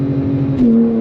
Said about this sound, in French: là tu vas tester le launch control